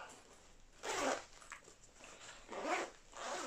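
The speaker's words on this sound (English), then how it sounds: "good zipper pulls on it. Pull straight across." Zipper pulled straight across on a pocket of a Kylebooker fly fishing vest, with two soft rasping pulls about a second and a half apart and a fainter third at the end, close and quiet with no talking.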